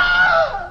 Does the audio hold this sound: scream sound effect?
yes